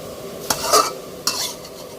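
Minced pork for Thai pad kra pao is stir-fried in a pan, with a steady sizzle under two distinct scraping strokes of a utensil stirring the meat, close and fairly loud.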